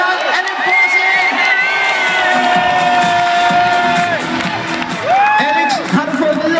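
Crowd cheering and whooping at a motocross freestyle show in Herning, loud and close, with high shouts and children's voices rising over sustained roaring.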